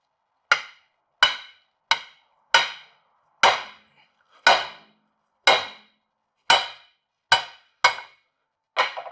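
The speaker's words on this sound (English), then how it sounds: "So I'm going to tap on the shaft here, and that's going to drive the shaft down and this U-joint up." Sharp metallic hammer blows on a Dana 60 front axle driveshaft of a 2005-2023 Ford F250/F350 4x4, driving out a U-joint cap: about eleven loud, evenly spaced ringing taps roughly a second apart, with nothing else heard.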